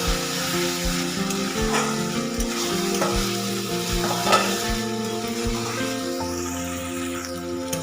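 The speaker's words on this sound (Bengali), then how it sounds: "এখানে আমি ঢাকাটা তুলে মশলাকে আর একবার ভালো করে কষিয়ে নিচ্ছি" Spice paste fries and sizzles in oil in a pan for rohu fish curry, a steady close crackle with repeated scraping stirs throughout.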